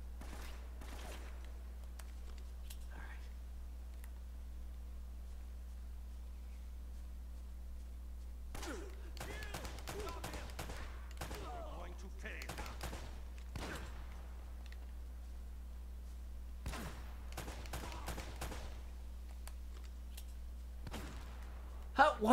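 Gunfire in the video game Uncharted: Drake's Fortune comes in scattered bursts of sharp cracks over a low steady hum, clustered in several volleys with quiet gaps between them.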